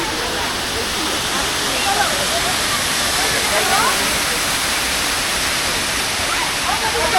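Bamni Falls in Purulia pours in a continuous loud roar of falling water, a dense, unbroken wash of rushing spray close by with no pauses.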